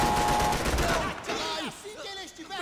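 Gunfire from Max Payne 3 bursts in a rapid volley at the start, then gives way to someone talking excitedly over fading game sounds.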